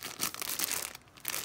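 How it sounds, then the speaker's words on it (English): Plastic bag wrapping is pulled off a Louis Vuitton item during unboxing, giving close, continuous crinkling and rustling with irregular crunchy bursts. "Oh, it's in another plastic bag."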